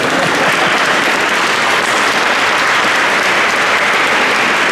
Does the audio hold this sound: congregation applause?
yes